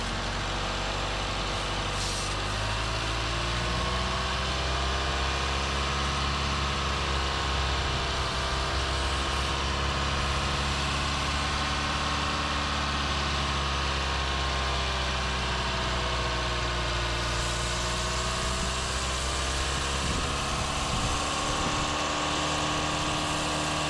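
A Mazda 2.5L SkyActiv-G four-cylinder idles steadily for the whole stretch with a constant, even hum and low rumble, slight pitch wobble, and no voices.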